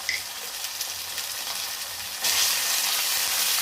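Ginger garlic paste and turmeric frying in a pan, a steady close hiss of sizzling oil with faint stirring scrapes that grows brighter and louder partway through.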